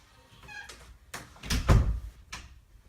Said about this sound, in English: I'm gonna close the door so you guys don't hear this music